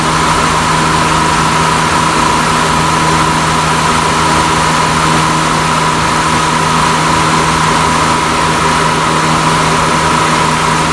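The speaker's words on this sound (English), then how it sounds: "I heard the compressor, the clutch click on." A car's A/C compressor runs steadily with its clutch engaged while the engine idles, giving a constant, loud mechanical hum and whine with no change throughout and no voices.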